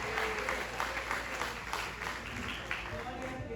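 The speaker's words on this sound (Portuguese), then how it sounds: "Aplaude a Ele." A church congregation claps steadily during an anniversary worship service, a broad wash of applause with voices and shouts mixed in, fairly distant and diffuse.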